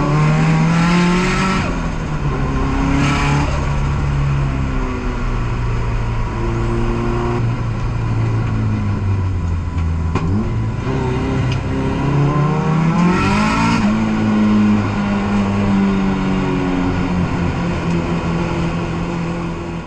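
A Nissan S13 driving on a race circuit, its engine revving hard and loud throughout, pitch rising through each gear and dropping briefly at shifts, steady close onboard sound with no speech.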